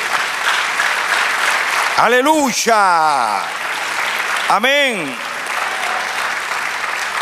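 Church congregation applauding steadily throughout, with loud voices calling out in exclamation over the clapping.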